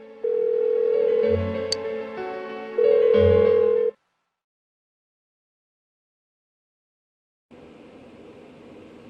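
A phone rings unanswered in the video game Persona 4 Golden, with two loud electronic ring bursts followed by several seconds of silence before a low, muffled hiss returns.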